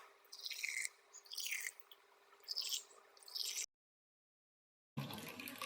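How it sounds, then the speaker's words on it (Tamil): Hot strawberry jelly poured a little at a time into a cup, giving soft wet drips and squishy liquid pours in three short bursts, then a pause and a louder burst at the end. "நான் இப்ப இந்த கப்ல கொஞ்சம் கொஞ்சம் ஊத்துறேன்."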